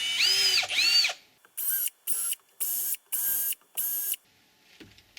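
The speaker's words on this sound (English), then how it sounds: "we want to drill the pilot holes into the wood" A power drill bores pilot holes into wood in short bursts: two whining spins, then five quick, even pulses of motor noise in a row, close and loud, before stopping.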